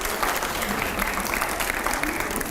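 Loud, dense applause from a television studio audience at a debate with editors, a continuous roar of many hands clapping close and steady throughout, with crowd noise blended in.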